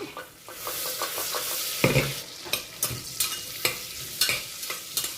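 Whole spices fry in a pot for corn pulao: bay leaf, cinnamon, star anise, black and green cardamom and cloves. A close, steady sizzle runs under rhythmic spoon stirs and scrapes that recur about every half second, with no talk.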